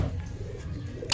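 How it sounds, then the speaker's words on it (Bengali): A female pigeon coos softly at close range, low gentle murmuring tones over a quiet background, ending with a brief sharper sound. "মাদি কবুতর, সবুজ পিলং বা জিরা বলতে পারো"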